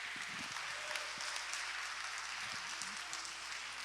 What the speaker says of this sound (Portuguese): aplaude o Senhor glorificando em nome de Jesus